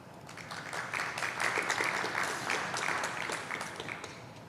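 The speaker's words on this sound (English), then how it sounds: "a round of applause for the student awardees in the Mathematics Department" At a college science awards ceremony, a modest audience claps for mathematics student award winners, moderately soft applause swelling and fading over a few seconds.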